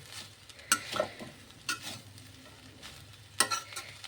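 Egg fried rice being stir-fried in a home kitchen pan, with a few sharp scrapes of the spatula over a soft background sizzle.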